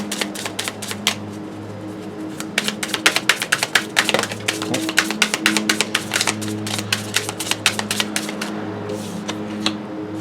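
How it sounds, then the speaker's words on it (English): Tarot cards are shuffled by hand during a romance pick-a-card reading, giving close, busy riffling and tapping with sharp repeated card flicks over a steady low background hum. "One little shuffle there."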